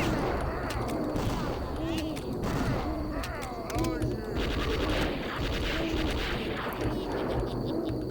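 Gunfire from bullets fired at ghosts in Redneck Rampage's Grimley's Mortuary, dense and continuous across the clip, layered with game music and effects while a voice talks over it.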